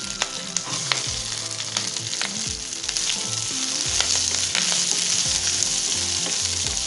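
Green chillies and onion fry in a pan for South Indian poori potato masala, a loud continuous sizzle with repeated scraping stirs and spoon knocks, close and without talk.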